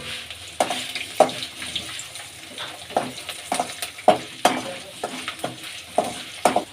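Curry leaves dropped into hot oil for a cucumber rice masala, giving a sizzling fry with sharp crackling bursts at irregular intervals, close and fairly loud, and no voices.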